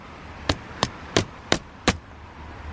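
A small, brand-new hammer drives tent pegs into the ground at a campsite in the Scottish Highlands: five sharp, evenly spaced knocks about a third of a second apart, close and clear over faint background hiss, with no speech.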